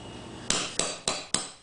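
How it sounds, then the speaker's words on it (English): Four sharp metal hammer strikes drive a socket onto a go-kart, evenly spaced and ringing briefly, close and loud against a quiet background with no talking. "So you can see the socket kind of just sits on here, and you kind of hammer it in."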